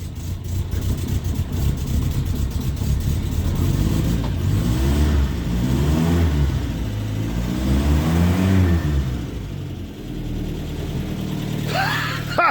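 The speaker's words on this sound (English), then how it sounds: "This is a proper bloody cold start, this is." On a cold, miserable day, a Land Rover Series III 109 van's engine cold-starts after a few seconds of background noise, then runs loud and close with uneven rising and falling revs before settling toward idle.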